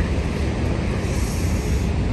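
Steady, loud wind roars across the microphone for the whole stretch near Niagara Falls, Ontario, a dense low rumble with no voices.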